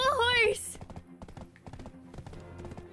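A horse's hooves clip-clop in the online role-playing game Black Desert Online, opening with a short whinny, then a brisk run of hoofbeats at an even pace, fairly close.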